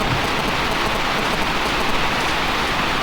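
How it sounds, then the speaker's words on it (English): Heavy rain pours down steadily in a Kisii village, a dense continuous hiss of drops hitting surfaces close by, with no voices. "it has really rained today"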